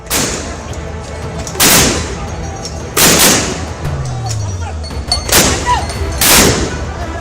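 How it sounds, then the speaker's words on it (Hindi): Police fire tear gas shells at protesters in Sri Lanka: four loud, sharp launch booms spaced a second or so apart ring out over a rumbling crowd backdrop, with a lower whooshing sound between them. "पुलिस लगातार प्रदर्शनकारियों पर आंसू गैस के गोले फेंके जा रहे थे"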